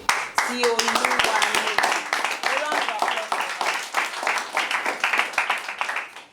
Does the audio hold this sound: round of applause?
yes